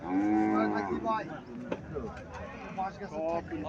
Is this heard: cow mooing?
yes